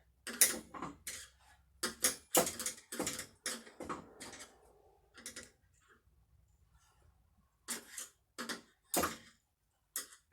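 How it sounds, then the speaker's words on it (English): Brackets being screwed onto the aluminium front and back beams of a 1515 Workbee CNC kit, into T-nuts: quiet clicks, ticks and creaks come in irregular bursts with short pauses, close by and alone. "we're going to be screwing these brackets onto your front and back beams"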